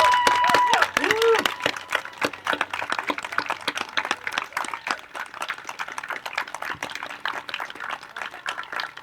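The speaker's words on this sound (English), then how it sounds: "I think another round of applause is not too much for Mosab." An audience at a poetry reading for Mosab Abu Toha claps in a long, dense round of applause, strong at first and holding steady, with a brief voice near the start.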